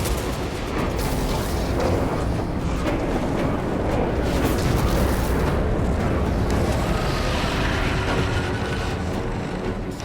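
A continuous, roaring barrage of balefire explosions in Space Marine 2 rumbles without letup for about ten seconds, dense, heavy and loud, with no voices on top.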